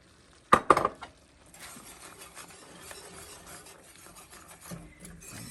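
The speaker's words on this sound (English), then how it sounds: "Mix that in there really well." Beef tips with garlic and onions stirred in a pan: a short burst of metal clatter near the start, then a soft, steady scraping and faint sizzle that continue to the end.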